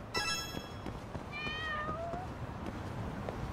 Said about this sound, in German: Ich höre noch eine Katze.